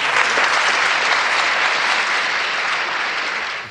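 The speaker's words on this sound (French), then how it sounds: "c'est dans l'horizon de cette constatation applaudie comme vous l'entendez" Sustained audience applause at a lecture by Jacques Lacan, a steady dense wash of clapping from a full hall that holds for several seconds and then begins to fade.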